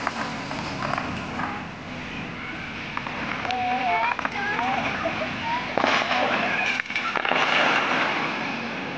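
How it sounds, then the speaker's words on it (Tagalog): Scattered pops and crackles of fireworks at a distance at a Mother's Day celebration at Okada, with faint whistles and occasional sharper bangs over a low background murmur. "Parang fireworks."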